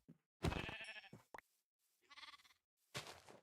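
Sheep in a Minecraft-style multiplayer game give several short game bleats, close and clear, separated by brief silences.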